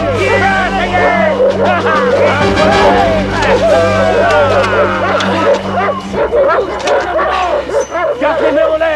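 Several dogs bark and yip excitedly in rapid, overlapping bursts, loud and close, during a tense manhunt scene in a 1992 film, with a low engine-like drone underneath for much of it.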